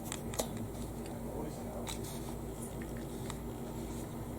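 Scissors cutting out a drawing, quiet and close, with faint repeated snips and paper rustle over a steady low hum.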